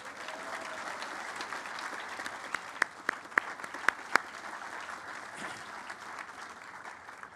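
An audience at a Founders Day program breaks into a round of applause, a steady wash of clapping with a few sharp, louder individual claps standing out near the middle before it settles and continues.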